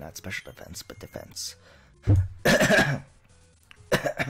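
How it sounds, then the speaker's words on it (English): A person clears their throat once, loud and close, with a short cough-like rasp between stretches of speech while playing Pokemon FireRed. "I had to clear my throat"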